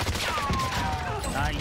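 Gunfire in the Warzone battle royale video game rattles out as a loud close burst of rapid shots over constant game noise, with players talking in the background.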